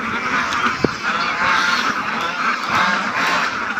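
Ducks calling continuously in a noisy outdoor scene by a pond, honking and quacking blended together with one brief sharp knock early on.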